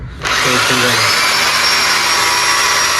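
A cordless power drill from a home tool kit spins in reverse, a loud, steady high whine that starts abruptly and holds, with a brief low voice heard as it spins up.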